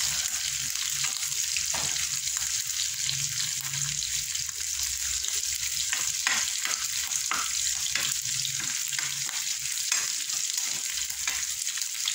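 Garlic fries in a pan for adobong sitaw, giving a steady close sizzle with occasional scrapes and stirring clicks throughout.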